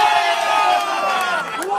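A crowd at a putting competition bursts into loud, dense cheering and shouts, a sustained roar of voices filling the whole moment.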